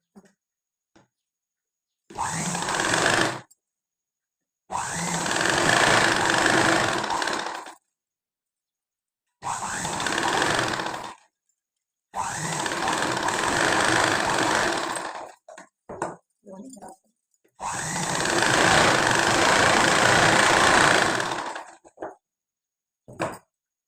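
A sewing machine stitches a blouse sleeve in five separate bursts of steady, rapid whirring, a few seconds each, with silent pauses and a few faint clicks between runs.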